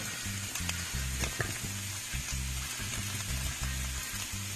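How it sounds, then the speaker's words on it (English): Unrefined organic coconut oil sizzles steadily in a frying pan, with a constant close crackle and occasional stirring scrapes. No one speaks. "I think I'm going to add a little bit more coconut oil"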